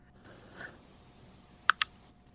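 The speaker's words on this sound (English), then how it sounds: "I can literally hear crickets chirping from Zach's end." Crickets chirping through an open window, faint and distant, with a couple of brief sharper chirps standing out over quiet room tone.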